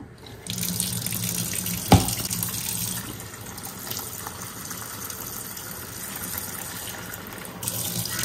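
Tap water gushes steadily into a vessel to soak food in a home kitchen, a continuous close splashing stream with a brief clank of a pot near the start.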